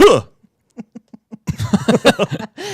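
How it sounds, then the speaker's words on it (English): A man gives a gagging, retching cough, a sharp burst followed by a string of short hiccup-like spasms and choked vocal sounds, close and loud with no clear speech. "It was a throw up cough."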